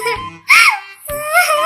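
A cartoon sparrow cries after being splashed with hot tea, giving short high wailing sobs in two bursts with a brief pause between, close and loud.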